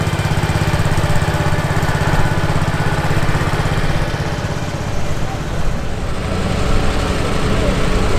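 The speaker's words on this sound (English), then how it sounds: "Here's a Cub Cadet 147. Complete with the trailer." An International Harvester Cub Cadet 147 lawn tractor pulling a trailer runs at a tractor parade, its small engine droning loud and steady throughout.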